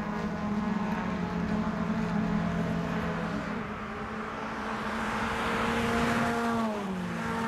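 Suzuki Swift Sport race cars at Pembrey circuit sweep up toward the timing line, a loud, continuous blend of engines rising and falling in pitch as they pass close by, with no talk over them.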